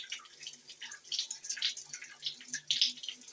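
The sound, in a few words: water coming through a rain shower head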